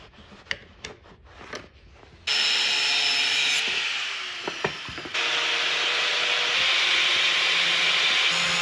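A metal tab being cut off with a power tool: a few scrapes and taps, then a loud continuous grinding whine that dips briefly and resumes steadily, close by.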